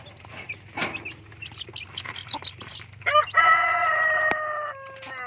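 Rhode Island Red chickens and chicks clucking and crowing close by in a free-range setting, a burst of short clucks followed by a long loud rooster crow that stands alone near the end.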